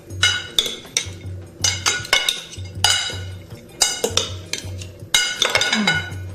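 Red pepper, grated carrots and sesame seeds tossed together in a bowl, giving a run of close, bright clinks and scraping knocks of utensils against the dish in uneven bursts, with no talking.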